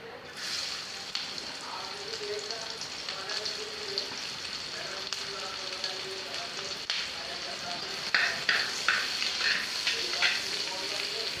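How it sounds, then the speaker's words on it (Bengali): Onions fry in hot oil in a frying pan on a home stove, a continuous close sizzle with crackling bursts that grow louder near the end. A voice talks over it at times. "চুলায় ফ্রাই প্যান বসাই দিছি তেলও গরম হয়ে গেছে এখন পেঁয়াজটা ভাজে নেবো"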